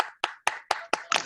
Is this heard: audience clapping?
yes